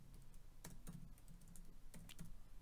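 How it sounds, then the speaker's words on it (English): Quiet, close typing on a computer keyboard, a short run of soft, irregular key taps over faint room hiss. "I am going to simply type in trace"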